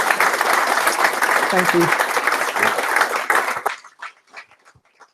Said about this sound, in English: If we all give him a nice, appreciative round of applause.